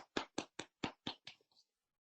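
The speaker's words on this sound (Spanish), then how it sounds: "un gran aplauso para los panelistas" A few close, crisp hand claps at a webinar send-off for the panelists: about seven sharp, evenly spaced claps that quickly thin out and stop, with no voices.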